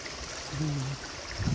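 Water from Abungan Falls in Dingalan, Aurora, rushes in a steady, even hiss from start to finish, with a brief low hum partway through.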